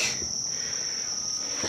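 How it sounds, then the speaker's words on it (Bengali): Crickets chirp in a quiet forest in Kalimpong, a steady high shrill trill that runs unbroken and fairly loud throughout, with no other voices. "ঝিঝি পোকার ডাক, পাখির ডাক শুনতে শুনতে"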